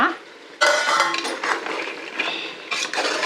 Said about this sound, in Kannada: ಇದನ್ನು ಮೀಡಿಯಮ್ ಫ್ಲೇಮಲ್ಲಿ ಸ್ವಲ್ಪ ಹುರ್ಕೋಬೇಕು ಒಂದು ಐದು ನಿಮಿಷ